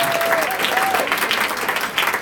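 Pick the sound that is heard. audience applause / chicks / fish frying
audience applause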